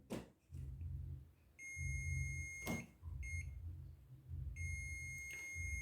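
A high, steady electronic beep from a multimeter in diode test mode, checking an air conditioner circuit, sounds in a few sustained bursts over a low background hum, with brief clicks between them.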